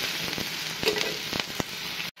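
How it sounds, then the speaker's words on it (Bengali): Onions and green chillies fry in oil with spices, a dense, steady sizzle broken by small pops and crackles, close and fairly loud, cutting out briefly near the end. "এখন পেঁয়াজ মরিচ ভেজে মশলা বসাই"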